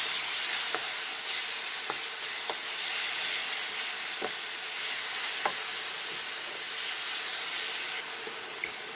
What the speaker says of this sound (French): Les oignons ont bien blondi, on vient rajouter à présent la chair des aubergines. Et on mélange bien.